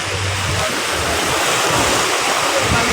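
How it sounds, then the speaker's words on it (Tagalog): Waves slap against a large wooden fishing boat on Manila Bay during monsoon weather, a steady loud wash of surf and wind rumble filling the scene without pause. "Laban na laban po ito sa alon"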